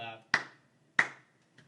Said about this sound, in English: That slow clap.